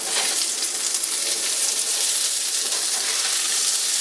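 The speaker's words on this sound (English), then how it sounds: "I think I'll give these potatoes a stir now." Potatoes fry in a cast iron pan while being stirred. A dense, steady hiss of sizzling oil fills the whole stretch, close and even, with no voices.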